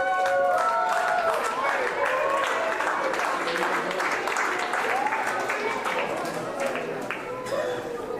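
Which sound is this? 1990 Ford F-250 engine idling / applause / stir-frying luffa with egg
applause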